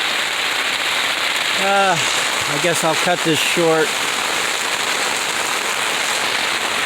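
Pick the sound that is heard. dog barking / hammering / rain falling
rain falling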